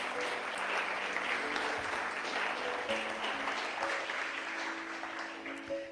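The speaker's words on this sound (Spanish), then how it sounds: "¿Por qué no le das una ofrenda de palmas al Rey?" Congregation in a Spanish-language church service clapping in praise, a sustained blend of many hands heard somewhat distantly, with faint sustained tones from instruments or voices underneath.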